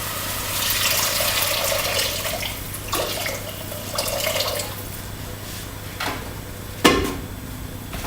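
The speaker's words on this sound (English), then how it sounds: "So you want to add some more water now to that." Water poured into a cooking pan of browned, glazed pasta sauce, a splashing gush in uneven bursts with a sharp splash near the end.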